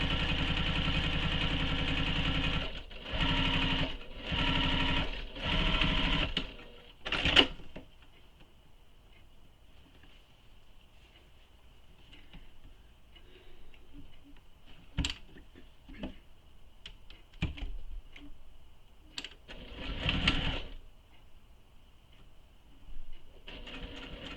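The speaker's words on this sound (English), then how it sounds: "we're top stitching this, so you want to use your stitch length that you use for top stitching" A sewing machine top-stitches a tote bag in a few short runs of steady mechanical whirring, then goes quiet apart from occasional small clicks and handling noises.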